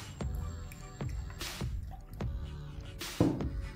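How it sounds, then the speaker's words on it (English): Oil and water sloshing as a container is shaken in a simple science experiment, a series of wet squishy splashes in an irregular rhythm, close and moderately loud, with no talking. "Let me see by shaking it whether it can mix."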